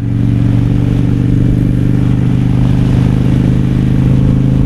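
A Harley-Davidson Fat Boy motorcycle cruises along the road with a loud, steady, low engine rumble and constant wind roar throughout, close-miked and with no talking.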